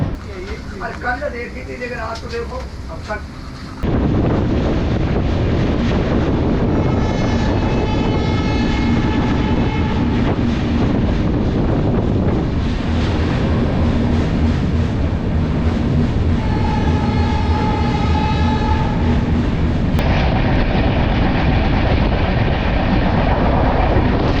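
Inside the Tamil Nadu Express passenger train, a loud steady rumble of wheels on rails fills the whole stretch as the train slows, with a tonal whine appearing twice.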